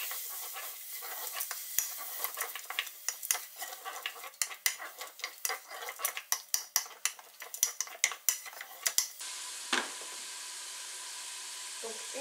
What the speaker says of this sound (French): Et là vous allez remuer jusqu'à temps que la viande soit cuite.